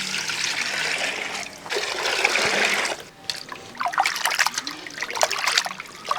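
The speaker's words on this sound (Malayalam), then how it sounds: "ഇത് നല്ലപോലെ വൃത്തിയായിട്ട് കഴുകിയെടുക്കാം." Small chopped chicken curry pieces are rinsed under running water, a steady trickle and splash of tap water with brief pauses and scattered clinks and wet handling noises close by.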